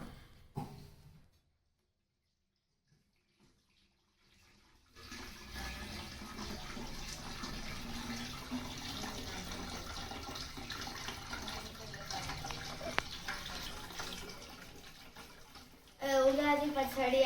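Tamarind juice is poured into a bowl already holding jaggery for Ugadi pachadi. After a near-silent start comes a steady, fairly faint stream of trickling liquid that runs for about ten seconds.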